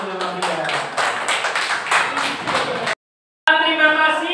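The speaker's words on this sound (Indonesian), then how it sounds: "tepuk tangan untuk kelompok 3" A classroom group gives scattered, uneven clapping for a presenting team, mixed with voices, then a short silent gap before a cleaner stretch of sound resumes.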